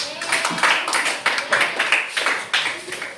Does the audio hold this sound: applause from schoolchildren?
yes